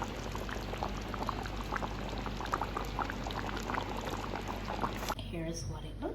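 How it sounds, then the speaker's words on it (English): Oxtail stew simmering in a covered pot on the stove, a steady bubbling and soft boil running close and continuous, with a brief clink of the lid near the end. "I'm gonna cover this and let everything simmer"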